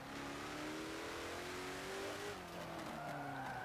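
Race car engine from Forza Motorsport 7, an aerodynamically tweaked, high-powered track car, revs steadily upward and then drops through a gear change. It sounds loud and continuous, with no talk.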